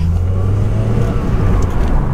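A Rover Metro R100 car drives along back streets. Its engine holds a steady, loud drone from inside the cabin, with no pauses or gear changes.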